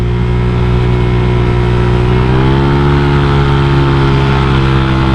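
A motorcycle engine fitted with a CMS aftermarket exhaust, a BRT 63mm bore-up build, revs loudly and steadily up close, its harmonic drone rising in pitch partway through, with no talk over it.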